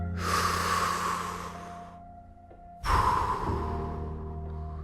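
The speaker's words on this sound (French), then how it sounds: "Prenez une grande respiration." Two long, deep breaths, a slow inhale followed by a pause and a second strong breath, close and fairly soft over a faint steady hum.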